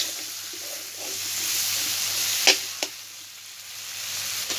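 Potatoes and Malabar spinach stalks fry with onion in a pan, giving a steady close sizzle throughout, with a couple of sharp spatter pops partway through.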